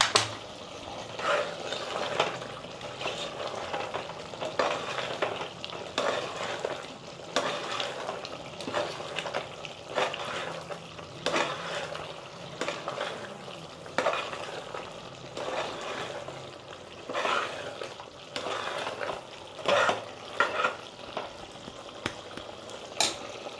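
Mutton boti curry with masala bubbles and sizzles in a pot while being stirred, with soft, irregular scraping and bursts of wet frying noise, close and fairly quiet, with no speech.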